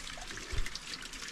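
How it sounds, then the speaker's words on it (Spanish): Water draining through a drain cut into the sunken stone of an Inca pool, a soft continuous trickle and gurgle with one brief low splash partway through. "Pero aquí se va el agua."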